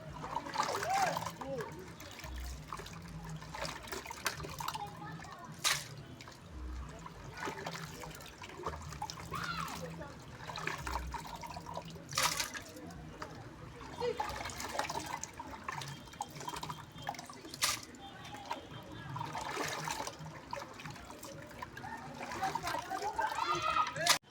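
Locust bean seeds tip into a pot of water set for boiling, giving trickling, splashing and dripping liquid sounds that come and go, with a person talking over them throughout.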